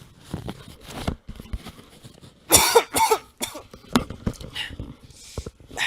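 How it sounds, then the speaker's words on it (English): A person coughs repeatedly in uneven bursts close to the microphone, with scattered short rustles and fumbling noises between the coughs. "my headset slipped and I was starting to cough"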